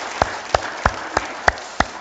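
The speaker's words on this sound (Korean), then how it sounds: "박수랑 하세요." A small church congregation claps in a sparse, slow rhythm, about six distinct claps spaced roughly a third of a second apart, moderately close with a roomy background and no voices.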